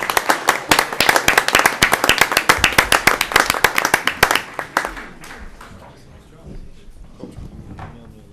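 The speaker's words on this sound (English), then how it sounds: "Let's have a nice round of applause for this track team." A small audience at a school committee meeting claps for a track team, loud, close, rapid hand claps for about four seconds before tapering off into scattered claps and quiet room noise.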